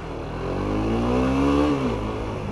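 A Suzuki GSX-S 125 motorcycle engine revs up steadily, its pitch climbing before easing back, loud and close against a continuous mechanical drone.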